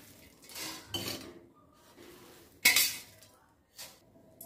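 Clinks and scrapes of a metal kitchen pot as puffed rice snack is tipped into a large vessel, several bright clattering bursts close by with quieter rustling between, no talk.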